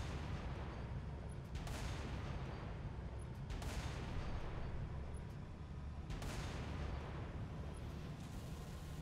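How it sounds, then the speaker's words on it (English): Anti-aircraft guns fire in Halo Reach with heavy booming blasts recurring every couple of seconds over a dense, constant rumble of battle. "AA guns dead ahead, Lieutenant."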